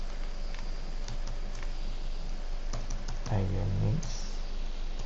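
Computer keyboard typing, a run of quick key clicks entered at a terminal, clear and close, under someone speaking.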